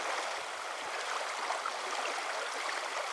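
Fast-moving river water rushes and burbles continuously nearby in Mongolia, a bright, steady splashing flow with light gurgles and no voices.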